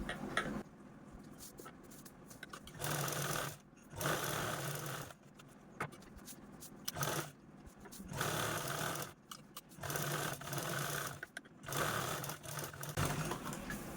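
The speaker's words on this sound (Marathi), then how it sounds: "या तीनही बाजूने स्टिच करायची" A sewing machine stitches fabric lining for a cloth sunglasses stand, running in bursts of steady rapid whirring broken by short pauses, close and clear, with no talk.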